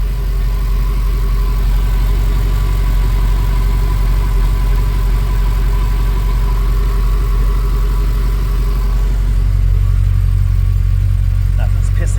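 A Ford BA Fairmont V8 idles steadily and loudly up close after a timing chain replacement, a smooth continuous rumble with no ticking, the idle note dropping slightly near the end.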